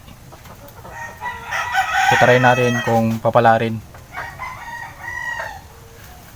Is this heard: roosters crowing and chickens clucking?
yes